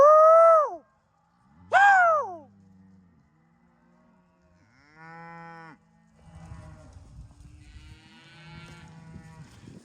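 Mashona cattle and calves moo outdoors: two loud, close calls open the scene, then softer, lower lows and bellows follow from the herd at a distance.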